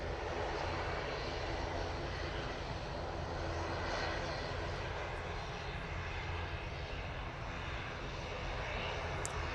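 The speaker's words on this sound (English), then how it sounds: "So we've got the air tanker that looks like it's going to be coming down" An air tanker aircraft approaches to land at Manchester Airport, its engine roar a steady, broad, continuous drone held at constant loudness throughout.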